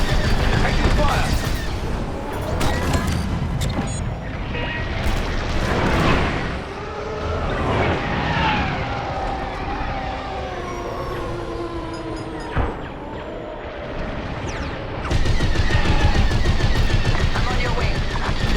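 Blaster fire pelts a starfighter in Star Wars: Squadrons: rapid, repeated energy shots and impacts crackle over engine roar and in-game music, dense and loud throughout, with a sharp surge near the end.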